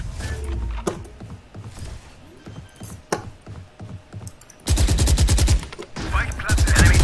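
Enemy gunfire in a shooter video game: scattered single shots over busy game noise give way to dense, loud rapid-fire bursts of automatic fire near the end.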